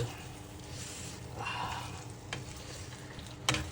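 Food cooking in a pot for a home meal of ghee rice and chicken curry is stirred, giving a faint, steady sizzle with a few soft scrapes and clinks. A quiet voice may be heard in the background.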